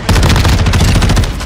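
A loud, close burst of rapid automatic gunfire from an airstrike in Call of Duty: Modern Warfare II, with dense shots pounding steadily for about a second and a half, alone without speech.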